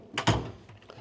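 A tool-chest drawer holding screwdrivers slides open with a quick scrape and a couple of close, sharp metallic clunks, then settles quietly.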